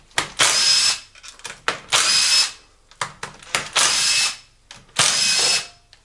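A power tool unscrews the 8 mm hex M6 cylinder head bolts on a D50B0 motorcycle engine being stripped down, running in four loud, close whirring bursts separated by short pauses.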